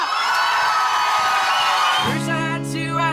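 A concert audience cheers and whoops loudly, a dense roar of voices that suddenly gives way to a sustained tonal sound near the end.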